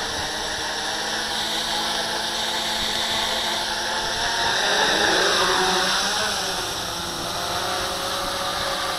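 X700 hexacopter running a KK2.1.5 flight board, its six motors giving a steady broadband whir outdoors that swells briefly louder midway as the throttle is cranked up, then settles back to an even drone.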